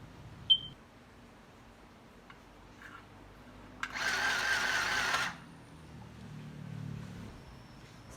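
A sewing machine stitches fabric while old thrifted clothes are altered, giving one steady mechanical whirring burst of about a second and a half at moderate loudness, with quiet handling noises and a faint click before it.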